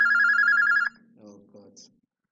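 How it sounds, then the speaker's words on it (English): A telephone bell rings steadily in a near, loud burst that cuts off, followed by someone talking briefly over the fading room. "Oh my God, it's ringing. The phone is ringing."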